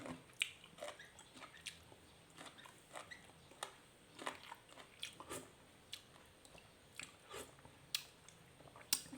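Pickled phak sian, a Thai fermented spider plant, is chewed close to the mic, giving soft, wet crunches and bites in an irregular rhythm, faint and alone.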